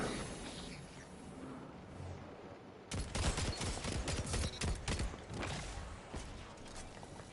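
Rapid bursts of scout rifle gunfire in a Destiny 2 capture-and-defend PvP match, starting abruptly after a quieter stretch and continuing as dense, loud repeated shots to the end.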